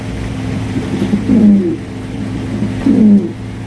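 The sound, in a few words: male Andalusian giant Huma pigeon cooing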